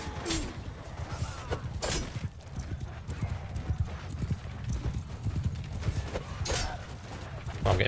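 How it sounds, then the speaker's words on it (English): Horse hooves clip-clop steadily in the Mount & Blade II: Bannerlord video game, a continuous rhythmic trot under game ambience with occasional voices talking. "That's a horse."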